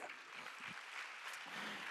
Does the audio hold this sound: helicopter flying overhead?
no